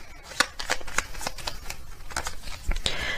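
Tarot message cards are shuffled close by in quick riffling bursts and flicks, a dense, uneven patter of paper snaps that runs throughout.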